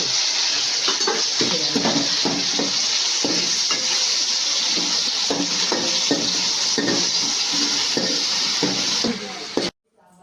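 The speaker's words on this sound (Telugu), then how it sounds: "అల్లం వెల్లుల్లి పేస్ట్ వేస్తున్నాను నేను. పుదీనా ఇలా కలిసి" Ginger garlic paste and mint frying in a pan for home-style sambar, a steady close sizzle with repeated stirring scrapes throughout, cutting off abruptly at the end.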